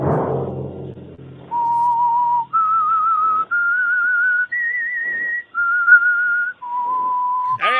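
A person whistles a clear melodic tune in a radio drama, a series of sustained pure notes stepping up and back down, close and prominent, with a brief low voice murmur at the start.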